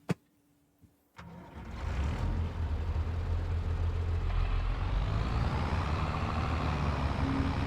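In a realistic farming simulator game, a tractor engine starts after a near-silent moment with a couple of clicks, then settles into a loud, steady, rumbling idle that carries on without any talk.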